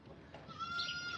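A goat bleats on a farm, one short wavering call heard fairly clearly against a quiet background.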